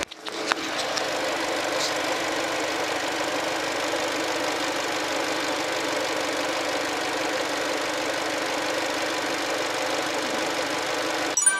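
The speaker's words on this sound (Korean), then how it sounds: "엔진 소리 한번 들어보도록 하겠습니다." The LPG engine of a Hyundai YF Sonata sedan idles close by with the hood open, a smooth, quiet, even rumble holding a regular rhythm throughout with no other sounds over it.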